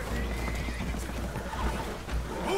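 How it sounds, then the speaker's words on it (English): A horse whinnies and neighs over a rumbling, noisy background, with faint hoof clatter, loud and close throughout the short stretch, in the video game Red Dead Redemption 2. "Horses are spooked, and we're taking on water."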